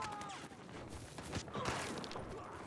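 Battlefield Hardline multiplayer gunfire, a continuous crackling fusillade of distant and nearby shots, fairly quiet and steady throughout.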